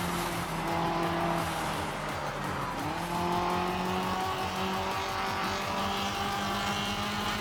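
Open-wheel race cars in an online racing game scream past with a steady high engine whine that shifts in pitch, joined by tyre squeal. The engine noise stays loud and continuous throughout.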